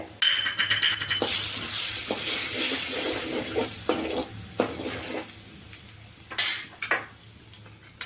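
Asafoetida, turmeric and coriander hit hot oil for a homemade aloo samosa filling, giving a close, steady sizzle broken by repeated clinks and scrapes of a spoon stirring in the pan, with no talking.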